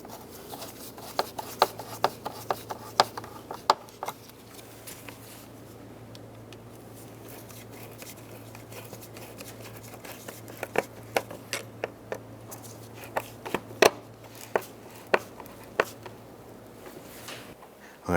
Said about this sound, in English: Let's go ahead and tighten down our hose clamps.